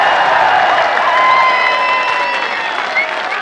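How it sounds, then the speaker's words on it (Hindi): A large crowd at an outdoor political rally for Imran Khan in Mianwali claps loudly, a dense and continuous roar of hands with some voices mixed in, steady for the whole stretch. "हाथ उठाकर तालियों की गूंज में बताइए इमरान खान से कितना प्यार करते हैं।"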